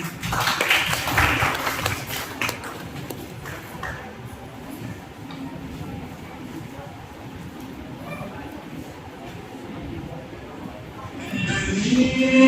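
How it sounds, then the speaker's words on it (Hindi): Audience applause at an annual college culture fest as a dancer is called to the stage, a broad wash of clapping from a crowd that stays steady and moderately loud for several seconds before swelling again near the end. "खुशी जी के लिए जोरदार तालियां।"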